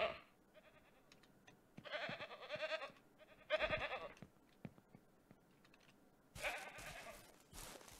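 Goats on a farm in the video game Ranch Simulator bleat in several distinct bursts, moderately loud over a quiet background with faint clicks between calls.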